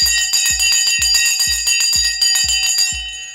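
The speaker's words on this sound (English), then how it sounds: "The bell has now gone." A stock market opening bell rings continuously with rapid, regular metallic strikes, loud and close for about three seconds before fading.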